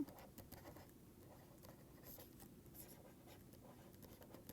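Chalk or marker writing on a board in a cleanroom and IC fabrication lecture, heard as faint, steady scratchy strokes over low room hum, with no talking.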